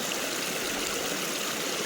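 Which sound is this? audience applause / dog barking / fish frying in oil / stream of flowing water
stream of flowing water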